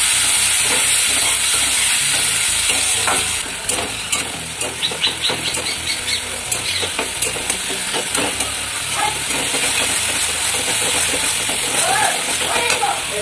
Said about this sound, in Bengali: এবার একটু সামান্য জল দিয়ে দেবো যাতে মাছটা না উড়ে যায়